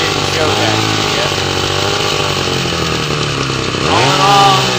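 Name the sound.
Disston DA-211 chainsaw running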